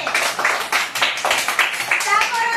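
Children clapping their hands at a preschool play session, a run of quick uneven claps mixed with high children's voices and chatter.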